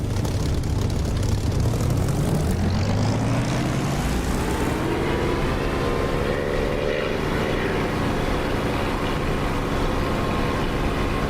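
A simulated propeller aircraft in the DCS flight simulator goes through its takeoff roll, the engine a loud continuous drone whose pitch climbs steadily as power builds, then levels into a sustained roar.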